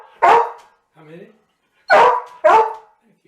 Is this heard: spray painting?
no